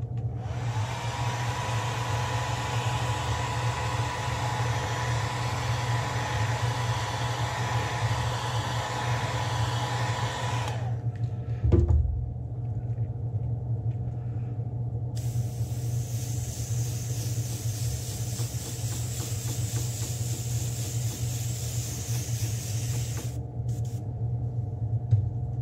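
Heat gun heat-setting paint on a custom fishing lure, a steady blowing whoosh and motor whine that cuts off, leaving a low hum, then starts again, close and loud throughout.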